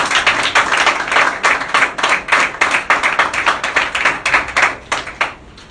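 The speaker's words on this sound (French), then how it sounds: "Acclamez très fort pour le Seigneur." Loud, rapid clapping from a church congregation acclaiming the Lord, a dense, continuous run of hand claps with a steady rhythm that thins out at the end, with no voices over it.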